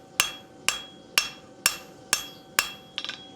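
Steel stock being hemmed on an anvil takes sharp ringing hammer blows at a steady half-second rhythm, six strong strikes and then a lighter rattling tap at the end, close up with no talking.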